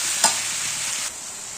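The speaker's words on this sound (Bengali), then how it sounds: "এভাবে অনবরত নাড়তে হবে, নাড়তে নাড়তে জিনিসটা গলে যাবে," A thick sour-sweet fruit pickle mixture melts in a pan, giving a dense steady sizzle close by, with one quick stir scrape near the start and a slight drop in loudness after about a second.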